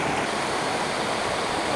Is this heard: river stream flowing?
yes